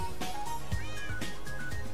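Cats meow in Minecraft on PS4, several short in-game mews overlapping with soft clicks and other game sounds, without talk.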